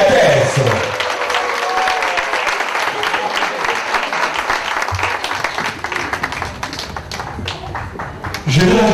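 An audience applauds loudly for a singer being introduced on stage, a dense wash of clapping that runs steadily throughout with voices mixed in, swelling again near the end.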